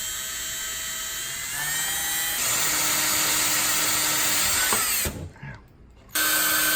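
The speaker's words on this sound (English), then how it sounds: "I'm gonna be drilling in these 3 spots right here for the mounting bracket." A power drill whines loudly and steadily for several seconds, drilling mounting-bracket holes for a slim motorcycle fender, shifting pitch as it bites, then cuts out briefly before spinning up again.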